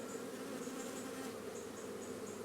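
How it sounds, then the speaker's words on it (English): Honey bees buzzing in a dense, continuous drone around an autumn hive on a farm, steady and fairly close with no talking. "again a few bees walking about with pollen on their leg"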